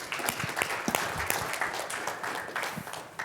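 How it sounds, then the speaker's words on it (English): An audience at a workforce development talk applauds, a moderate wash of clapping with scattered individual claps that gradually thins toward the end. "Give yourselves a round of applause"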